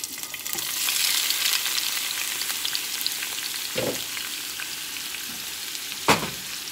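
Shrimp sizzle in a hot pan as a steady, broadband frying hiss with a few sharper spatters and pops, close and fairly loud, alongside rice cooking nearby; no one speaks.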